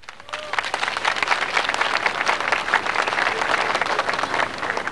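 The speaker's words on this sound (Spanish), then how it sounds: "quiero pedir un fuerte aplauso nuevamente para nuestro vicepresidente" A crowd at a public water-system handover ceremony in Coroico, Nor Yungas, Bolivia, applauds the vice president with sustained, dense clapping that swells quickly and holds steady, fairly close.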